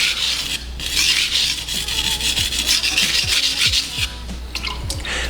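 Steel knife tip rasps across a sharpening stone in quick, close scraping strokes with short flicking pauses, reshaping a damaged point.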